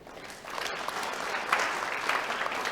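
Steady applause from an audience at an open senate session of a theology college in Jayapura fills the whole stretch, a dense, even clatter of many hands clapping with small swells in loudness.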